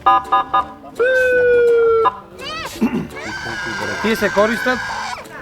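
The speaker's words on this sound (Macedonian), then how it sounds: "Моторот поседува сирена" A police motorcycle siren blares in short bursts, then holds a steady tone before sweeping into rising wails, with voices mixed in toward the end.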